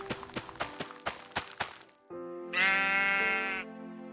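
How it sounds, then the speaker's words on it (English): A short run of clicky footsteps, then a sustained, synthetic-sounding sheep bleat from a video game, loud and close. "found 2 sheep as well"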